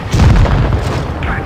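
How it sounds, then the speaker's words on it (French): A T28 Defender tank cannon fires in World of Tanks Blitz with one loud, heavy boom that rolls into a low rumble and fades over a second and a half. "donc le bruit du canon est vraiment sympa"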